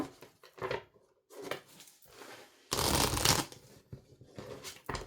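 Oracle cards from a small angel oracle deck being shuffled in several quick bursts of riffling and sliding, close and fairly loud, with a longer, more intense shuffle in the middle and no talking.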